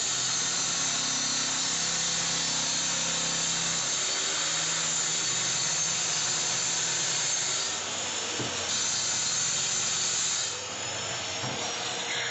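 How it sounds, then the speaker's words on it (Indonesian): A steady, loud whining roar of a circular saw cutting continuously through a plywood board, the tone shifting slightly as the blade works through it. "Untuk ambalan yang lebar, dipotong pakai circular saw ya teman-teman"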